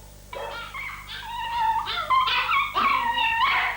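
A dog at Battersea Dogs Home whimpers and yips in a run of high, wavering whines that grow louder and more insistent, close by with no talk over them.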